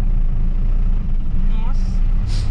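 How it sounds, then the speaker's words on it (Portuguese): A Ford F-350 extended cab pickup pulls away in second gear, its engine droning low and steady, a deep rumble holding constant throughout. "Rafael, vamos tentar sair de segundinho aqui, né?"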